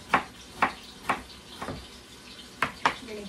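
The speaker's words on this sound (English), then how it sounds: "I'm going to give this a stir real quick." A spoon scraping and stirring vegetable pot pie filling in a pot, six distinct wet strokes in an uneven rhythm, close and fairly quiet.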